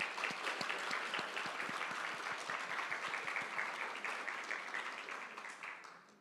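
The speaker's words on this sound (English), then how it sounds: "Please join me in giving a round of applause to Dr. Maliki." An audience at a school education launch event claps together in a round of applause that is moderately close and fairly quiet. The clapping is steady and rhythmic, then fades out over the last second.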